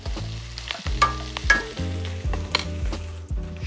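Green onions frying slowly in oil give a steady close sizzle, with soft stirring scrapes and clicks of a utensil against the pan in an irregular rhythm.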